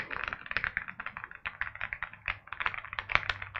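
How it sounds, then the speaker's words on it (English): Rapid close clacking of keycaps bottoming out on a Gravastar Mercury K1 Pro mechanical RGB gaming keyboard, an uneven rhythm of many crisp taps with no clicky switch sound. "It's the keycap bottoming out."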